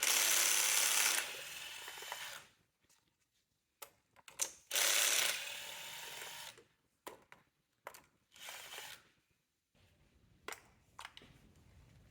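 A ratchet wrench loosening valve cover bolts on a 2002-or-later Mini Cooper, heard as close bursts of rapid clicking separated by short silent gaps and brief metallic taps, with no talk.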